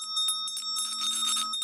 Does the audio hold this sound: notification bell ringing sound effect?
yes